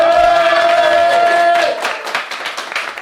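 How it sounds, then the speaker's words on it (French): A small group claps for a new cameraman, a short burst of scattered hand claps that follows a sustained tone and fades quickly. "On peut l'applaudir."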